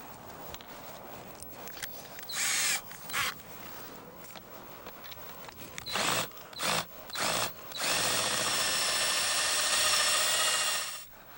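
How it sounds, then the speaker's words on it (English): Titanium drill bit boring out a screw head in a boat hull's rub rail, a loud power-drill whine in several short bursts before one long sustained run, close and with no talking. "I want to use a titanium drill bit about the same size as the shaft of the screw"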